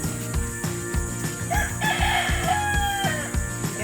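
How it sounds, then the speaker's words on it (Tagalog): Roosters and chickens along a roadside in the Philippines, with several cock-a-doodle-doo crows and clucks rising over a steady rhythmic mechanical background, moderately near and clear. "Ang daming manok dito sa ating daranan."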